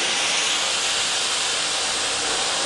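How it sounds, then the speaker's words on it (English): A commercial-grade steamer used for bed bug treatment pushes out a continuous, loud, steady hiss of steam, close and unbroken throughout. "puts out a good amount of steam"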